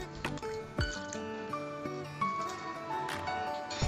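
Milk pouring and splashing into a metal pot while cooking vegetable biryani, with soft clinks and a bright trickling sound, close up and fairly quiet.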